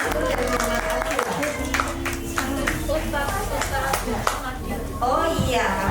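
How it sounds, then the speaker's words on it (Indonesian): Children and an audience at a preschool iftar gathering clap for young competitors after an azan contest: steady, fairly close hand-clapping that carries on under an emcee's amplified talking. "Kita berikan semangat ya, tepuk tangan lagi untuk adik Habibi, adik Muhammad Izul dan Muhammad Akila."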